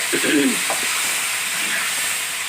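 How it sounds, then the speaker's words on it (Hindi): Charsi chicken karahi frying over high heat gives a steady broadband sizzle throughout, with a few brief stirring scrapes near the start and no voices. "आपने तेज़ आंच पे इसको फ्राई करना है"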